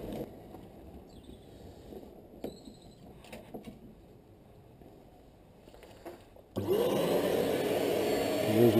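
A Hoover household vacuum cleaner rigged as a bee vac switches on with a sudden loud roar after quiet rustling and handling noises, then runs steadily with a whining, buzzing motor tone.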